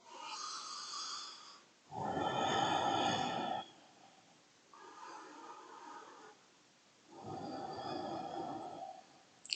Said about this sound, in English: Breathe nice and deep.